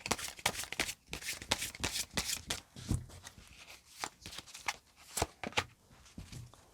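Oracle cards being shuffled for a tarot reading, a dense run of quick papery riffles and slaps repeating steadily at close range, with no talking.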